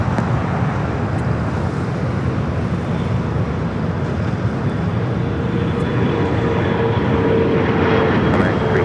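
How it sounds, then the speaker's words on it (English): A Delta Airbus A319 on the south side of Los Angeles International Airport gives a loud, continuous jet engine roar with steady broadband rumble, heard close and alone without talk throughout. "Delta A319 here on the south side"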